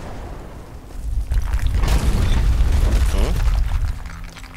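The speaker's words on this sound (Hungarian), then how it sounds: "Ja, hogy beomlott az egész?" A blast followed by rumbling collapse in the Deadfall Adventures video game, a loud sustained low boom lasting a few seconds with debris-like crackle on top.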